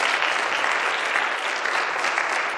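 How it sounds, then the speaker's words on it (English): A congregation at a chapel service breaks into steady, dense applause, a continuous wash of clapping from many hands that holds evenly throughout with no talk over it. "let's give the Lord and our family a round of applause for that"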